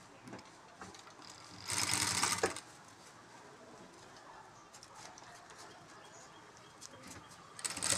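A sewing machine stitching a jute bag gives one brief, loud mechanical whirr of under a second. Faint pigeon-like cooing and soft room noise fill the quieter stretches around it.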